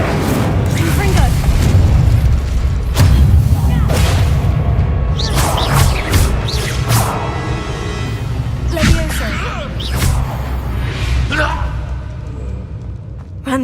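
The Confringo explosive spell in Hogwarts Legacy goes off as repeated booming bursts and whooshes layered over a constant low rumble, with voices heard amid the fight.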